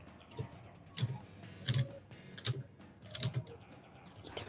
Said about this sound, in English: Who was just typing?